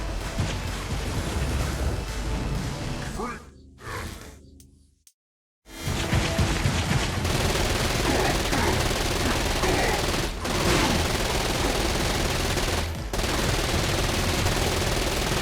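Video game battle gunfire from Saints Row: Gat out of Hell, a dense, continuous roar of rapid shots and blasts that cuts out briefly to silence, then resumes loud and sustained with intermittent bursts.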